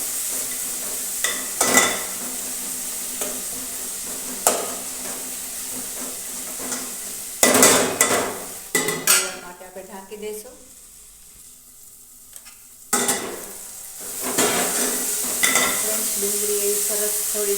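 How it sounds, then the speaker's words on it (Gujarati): Onion and ginger-garlic paste sizzle in a frying pan while being stirred, with bursts of scraping and crackle, a brief quieter pause midway, then renewed stirring up close. "હવે આપણે નાખી દઈશું આદુ લસણ પેસ્ટ એ પણ ડુંગળી તેથી સરસ પકડાઈ જશે આપણે બરાબર મિક્સ કરીશું"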